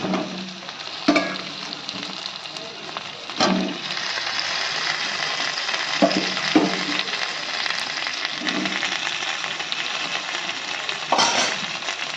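Fried potato and chicken pieces tossed into a sizzling spice paste for coconut chicken, giving a continuous loud sizzle with several bursts of clattering and scraping as the food is stirred, no talking.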